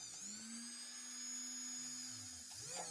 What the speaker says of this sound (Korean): 드릴로 뚫습니다.